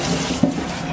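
Tomatoes get a quick rinse under a running kitchen tap, a brief steady splash of water with a small knock partway through.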